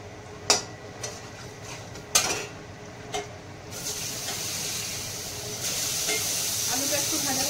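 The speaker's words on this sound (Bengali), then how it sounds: "আলুটা একটু ভাজা ভাজা হলে পটলটা ছেড়ে দেবো" Potatoes stirred in a pan with a few sharp spatula scrapes and knocks, then a rising steady sizzle of frying that grows louder and continues to the end.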